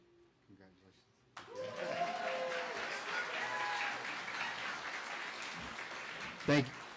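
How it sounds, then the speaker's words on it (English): Graduation ceremony audience applauding as an award recipient walks to the stage, a broad steady roar of clapping that begins abruptly after a quiet moment, with voices heard over it and a bump near the end. "Please give him a round of applause as he joins us to the stage to receive this award."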